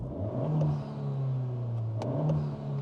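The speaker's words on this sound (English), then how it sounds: "So if I click the gas pedal again" An 11th-generation Honda Civic Si turbo engine revs under a blip of the throttle, a close, steady rumbling drone that rises, dips and climbs again, with a faint whir above it and no talk.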